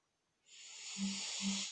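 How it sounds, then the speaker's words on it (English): Heavy breathing close to the microphone, a long hissing exhale followed by two low, rough snorting pulses, with no talking. "I'm breathing very heavily, if you guys can hear"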